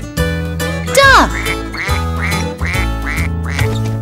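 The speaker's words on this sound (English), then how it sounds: "Duck." A duck quacks repeatedly in a quick series over upbeat background music, the quacks close and clear.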